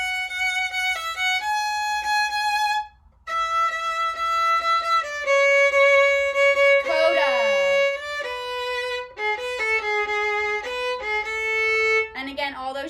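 Solo violin plays a passage of a song from measure 45, with clear sustained bowed notes, some quick slides and a brief break near the start, loud and close.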